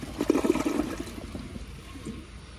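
A Project Source Pro toilet flushes, a rushing burst of water strongest at the start that settles into a quieter, steady trickle as the bowl drains, heard close and alone.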